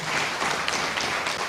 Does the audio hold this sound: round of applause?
yes